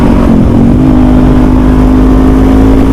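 The 400cc engine of a 2021 Kawasaki Z400 motorcycle shifts pitch early on, then holds a loud, steady, close-up hum with rough broadband rumble from the ride.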